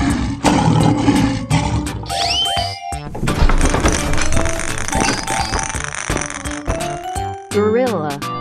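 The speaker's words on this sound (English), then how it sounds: "Lion." A cartoon lion roars amid a busy children's animal-cartoon soundtrack, the roar layered with music, chimes, jingles and playful sound effects, loud and continuous throughout.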